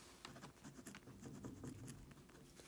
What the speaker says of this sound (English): So let me just write that.